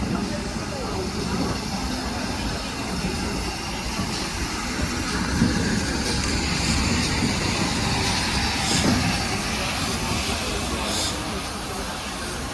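Steam locomotive Goliath on the Paignton and Dartmouth Railway uncoupling and running forward, a steady low mechanical rumble with occasional hisses and clanks, moderately distant and continuous under background noise.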